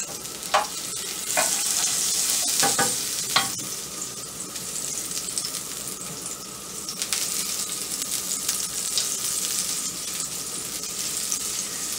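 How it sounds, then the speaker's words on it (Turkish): Butter melting in a pan, a steady close sizzle with a few sharp spatula scrapes early as the butter is spread around, moderately loud, with no voices. "güzelce tereyağımızı eritiyoruz. Tavamızın her yerine güzelce tereyağını yediriyoruz"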